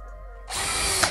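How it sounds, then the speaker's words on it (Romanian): A power drill fitted with a Wolfcraft FlipBit drives a screw, starting from near silence into a loud, close, high-pitched whir that holds for about half a second with a brief clack near the end. "am scos un șurub, am făcut pregăurire, am băgat alt șurub cu același dispozitiv"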